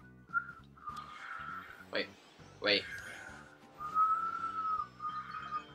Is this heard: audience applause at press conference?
no